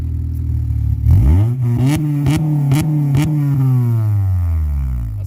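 An Acura TSX with a Skunk2 cat-back racing exhaust revs up sharply, then pulses through several quick throttle blips before settling into a long, loud, falling drone; close and dominant with no talking.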